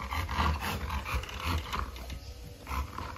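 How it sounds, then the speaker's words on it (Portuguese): A dog in a kennel growls in low, rumbling bursts that swell and fade in a steady rhythm, close and fairly loud, with no talking over it. "Olha que cachorro louco, cara."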